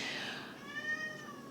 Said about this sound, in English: my cat wants to go outside. Sorry, so you're going to hear him meowing